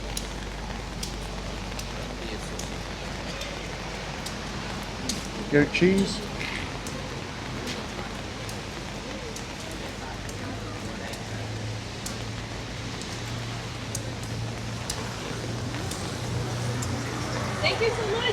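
Steady rain falls over an outdoor fish and produce market in Bergen, Norway, a constant even patter throughout, with a brief voice and a low hum from passing traffic underneath.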